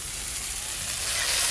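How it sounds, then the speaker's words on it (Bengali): Beto greens hit a hot pan of frying onion, potato and eggplant with a steady, close sizzle of oil that grows slightly louder as they cook, with no talking. "এবার কেটে ধুয়ে রাখা বেতো শাকগুলো দেব"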